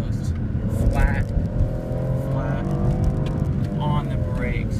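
A BMW engine accelerates flat out on a track, a strong, continuous drone that climbs in pitch, with someone talking over it throughout.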